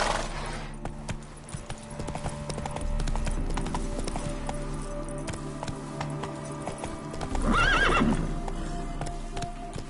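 Roach the horse gallops in a video game with steady, fast clip-clop hoofbeats under ambient game sound, then a loud whinny rises near the eight-second mark.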